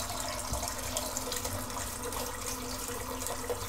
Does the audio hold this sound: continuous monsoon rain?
no